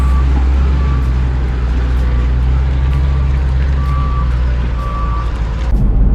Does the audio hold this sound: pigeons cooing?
no